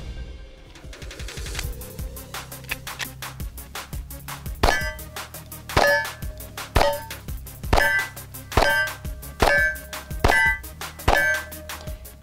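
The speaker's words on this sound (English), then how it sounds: "But enough talking, let's do some shooting." Cabot ICON 1911 pistol firing 230 grain Federal .45 ammunition, a string of about eight sharp, loud shots at a steady, evenly spaced rhythm, each with a short ringing tail, after some initial handling noise.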